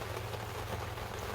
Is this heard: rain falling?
yes